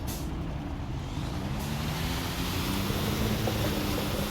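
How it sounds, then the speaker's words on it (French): Truck air brakes hiss continuously in the Construction Simulator video game, a steady broadband rush heard alone, with a low engine rumble beneath it. "Oh les freins mon pote."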